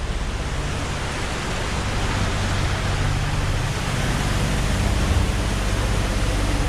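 Steady, dense roar of a sudden rain squall pelting a sailboat at sea off northern Sumatra, a loud unbroken hiss that holds constant throughout with low rumbling underneath and no voices.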